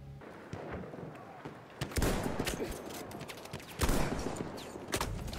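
Video game gunfire crackles in dense bursts and volleys, with heavy rattling shots swelling around the two- and four-second marks as a player is hit from behind.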